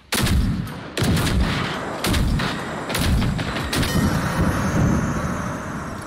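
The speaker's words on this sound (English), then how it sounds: "The shotgun did it." Loud shotgun blasts in the shooter game Generation Zero, four heavy booming shots spaced about a second apart, each followed by a rumbling echo and decaying tail.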